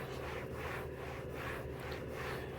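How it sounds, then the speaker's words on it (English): Turtle Wax Ice spray wax is buffed into car trim with a cloth, producing a steady, close rubbing and scrubbing sound in rhythmic back-and-forth strokes with no talk. "what I'm doing is kind of buffing it down in there."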